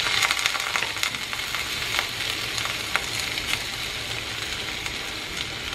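Small diced potatoes fry in a hot pan for a from-scratch home meal, a dense, steady sizzle up close with faint crackles and occasional stirring taps, no voices.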